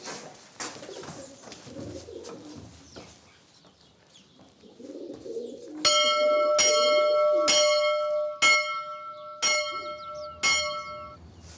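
A church bell in a village tower strikes about seven evenly spaced, ringing chimes that linger, preceded by soft pigeon cooing and faint background noise.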